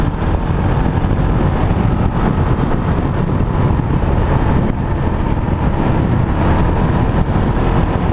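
A 2019 Husqvarna 701 Vitpilen motorcycle cruises on a highway, its engine drone steady and loud under heavy, constant wind rush, close to the rider with no breaks.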